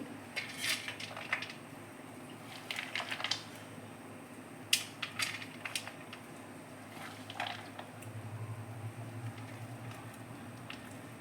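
Serving bhel, a puffed rice snack, with cutlery: scattered light clinks and scrapes of a spoon against a dish come in irregular bursts close by, with soft rustling between, no talk.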